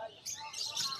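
A yellowface aqua budgerigar chirps in a bird market, giving a short bright twitter of two quick bursts, fairly near and moderately loud.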